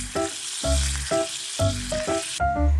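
Melted margarine sizzling in a pan as flour is stirred in for a bechamel sauce, close and steady, with repeated scraping stirs and clinks every half second or so over the constant frying hiss.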